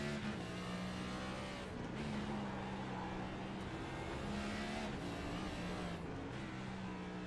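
A race car climbs up the hill on the CLT Roval in iRacing, its engine droning loud and steady with pitch shifts as it gears through the turns. Other cars run nearby.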